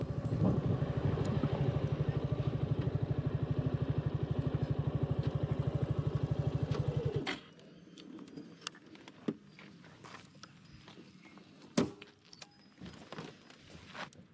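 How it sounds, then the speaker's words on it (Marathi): A Suzuki Gixxer SF motorcycle engine idles with a rapid, steady putter for about seven seconds, then cuts off, leaving quiet scattered clicks and movement. "ही आहे आपली सुझुकी जिक्सर एस एफ मस्त बाईक आहे"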